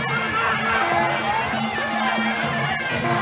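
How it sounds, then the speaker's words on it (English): Crowd at a Muay Thai fight cheering and shouting in a loud, dense wash of many voices, steady throughout with rising yells on top, close and enveloping. "And the crowd absolutely loved that."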